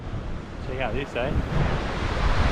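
Surf washes onto a beach at the Bay of Fires, heard as a continuous broadband rush mixed with gusting wind buffeting the microphone. A brief voice murmurs faintly near the start.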